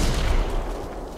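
An artillery HE round fires in a World War II Pacific combat scene, a single loud, close, rumbling blast that decays over about a second.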